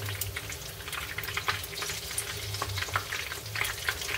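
Chicken katsu bites fry in a pan of hot oil, giving a steady, even sizzle with scattered pops and crackles throughout.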